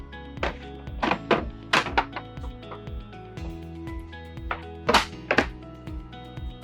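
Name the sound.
opening kitchen countertop panels in an RV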